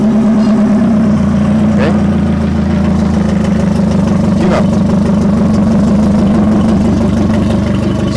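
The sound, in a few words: Yamaha F150 outboard engine running on flush adapter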